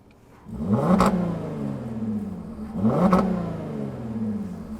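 A VW Atlas VR6 engine with a B2B Fab Wookiepipe exhaust revs twice, each a loud, throaty rise and fall with a growling tail, heard close in cold outdoor air with no talking.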